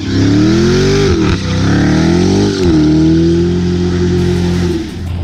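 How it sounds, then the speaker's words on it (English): A 2017 Dodge Challenger Hellcat's supercharged engine revs loudly up close, rising and falling in several surges with a high belt-driven supercharger whine riding over the deep exhaust rumble, with no talk. "That supercharger whine, that belt-driven supercharger."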